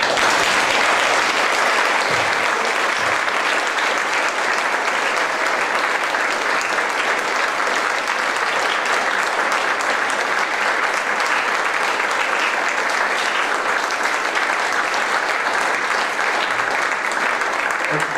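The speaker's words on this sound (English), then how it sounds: "please join me in a round of applause for Anthony Tucci Berube" Sustained audience applause fills a hall at an Eagle Scout court of honor, a dense, even clapping that carries on loudly for the whole stretch without any talk.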